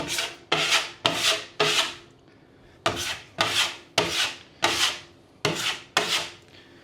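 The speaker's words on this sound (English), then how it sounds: "take a little bit of mud, pack it in there one way, go back the other way" Drywall mud pressed into screw holes with a taping knife, scraped one way and then back: ten close, crisp rasping strokes in quick pairs and short runs, each fading out, with no other sound.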